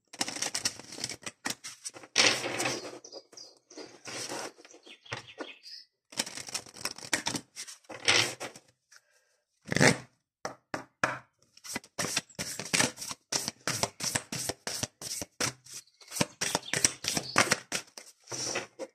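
Oracle cards being shuffled make repeated bursts of quick, crisp riffling and flicking, close and fairly quiet, broken by short pauses.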